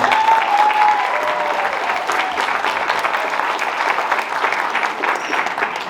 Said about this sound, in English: Another round of applause for our future cast.